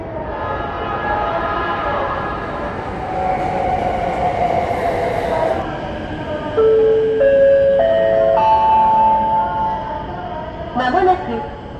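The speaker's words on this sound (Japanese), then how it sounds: "まもなくエアポート急行羽田空港行き電車が参ります。" A Keikyu airport express train for Haneda Airport pulls into Yokohama station with a loud rumble and rattle. Station chime tones and a recorded announcement play over the train.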